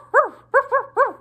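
A dog in a children's segment about opposites gives three bouncy, harmonic barks, near and fairly loud, the last two close together.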